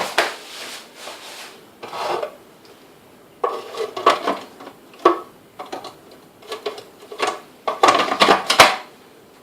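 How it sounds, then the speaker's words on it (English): A food processor works classic shortbread dough, giving uneven bursts of scraping, rattling clatter and grinding against the bowl, close and fairly loud with brief pauses. "rather than me using my muscles, we use the processor"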